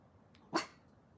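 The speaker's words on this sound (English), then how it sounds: "why are you barking at me?" A single dog bark, short and sharp, standing out clearly against a quiet background.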